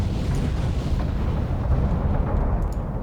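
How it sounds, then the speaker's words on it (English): A depth charge explodes near a submarine in Silent Hunter 3, a deep, sustained rumbling roar that fills the whole moment and rolls on steadily without talk. "That's a depth charging in front of us"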